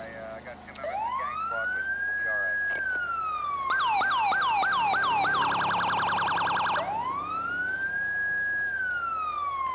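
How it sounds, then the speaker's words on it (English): Pathfinder police siren as used by the Florida Highway Patrol, on a patrol car in Grand Theft Auto 5 LSPDFR: a loud, steady wail rising and falling, then a burst of rapid yelping and piercing phaser tones, then the slow wail again. "We changed the siren out for a little while. We're using what the Florida Highway Patrol uses now,"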